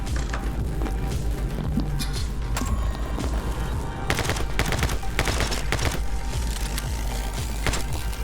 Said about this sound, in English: that guy right there consistently hits me with the assault rifle until I decided that I would try to jump over his first volley and then dodge through the second